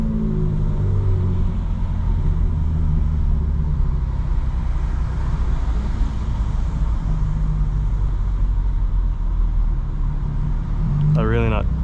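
A 900hp 2025 BMW M4 Competition xDrive cruises through Atlanta traffic, its steady low engine and road rumble droning loud and constant inside the cabin, with a brief rising tonal sweep near the end.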